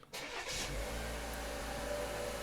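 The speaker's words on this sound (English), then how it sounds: "So brake, stop start button." A Buick Envision engine starts with the push button, a short crank catching at once and settling into a steady, fairly quiet idle heard from nearby with no talk.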